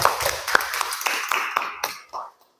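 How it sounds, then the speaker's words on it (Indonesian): Children in a classroom clap for a classmate in a brief, uneven patter of close, sharp handclaps that thin out into a few scattered claps before fading to quiet after about two seconds. "kasih tepuk tangan untuk Saren"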